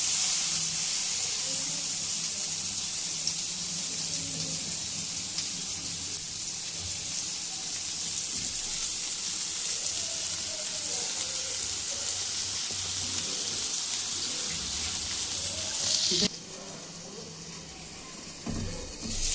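Fish fries on a new tawa with a steady, loud sizzling hiss that carries on without a break, then drops suddenly near the end as the pan is disturbed. Kitchen clatter is faint underneath, and no one talks.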